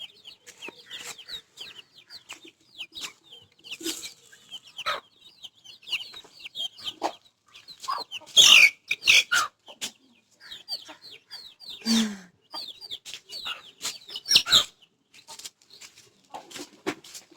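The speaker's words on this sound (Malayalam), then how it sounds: "ഞാൻ എൻ്റെ ഇപ്പം വിരിഞ്ഞിറങ്ങിയ കോഴിയെയും കുട്ടികളെയും കാണിച്ചു തരാം" A hen with newly hatched chicks gives repeated soft clucks among a steady stream of high, thin chick peeps, close by, with a few louder bursts and occasional brief voices.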